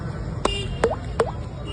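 A voice imitates water droplets falling: three distinct plinking mouth pops, each with a quick rising pitch, evenly spaced against a quiet background.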